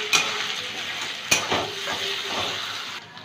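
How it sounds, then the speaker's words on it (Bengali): Ginger paste frying in a pan, a close continuous sizzle with a couple of sharp utensil knocks and scraping stirs over about three seconds. "আদাটা একটু ভেজে নেব"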